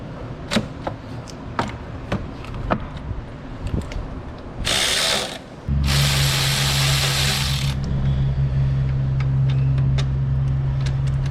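Ratchet clicks rhythmically on a swivel-head extension as it backs out the lower bolt of a thermostat housing on an Isuzu Ascender, followed by brief bursts of broadband mechanical noise and a steady low hum, with no talking.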